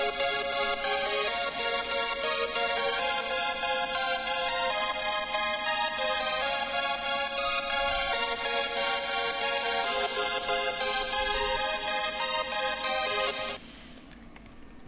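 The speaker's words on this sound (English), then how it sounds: "So the third pattern is this super saw, it sounds like this." A supersaw synthesizer pattern in progressive house style plays loud and dense, a steady rhythmic stack of bright detuned chords running continuously before cutting out near the end, leaving only a faint tail.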